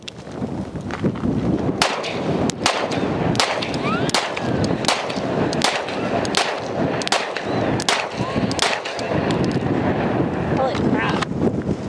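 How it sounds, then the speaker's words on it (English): Sig P320 Spectre Comp pistol fired outdoors at a windy range: a string of about ten to twelve loud, sharp shots at a steady, slightly uneven rhythm over constant heavy wind buffeting. "She's gonna get her first rounds to the new Sig P320 Spectre Comp."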